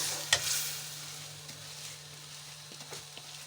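Soaked rice poured onto fried peas in a pot, one sharp clatter followed by a soft, steady sizzle and faint stirring scrapes, close but fairly quiet under a low hum.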